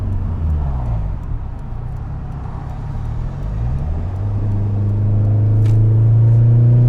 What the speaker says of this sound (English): we're gonna hop on the freeway and then go back up this big hill that we just came down